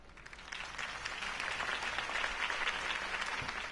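Crowd applause after Harvey Dent's campaign speech in a Batman video game, a dense wash of clapping that swells in the middle and holds, heard at a moderate distance.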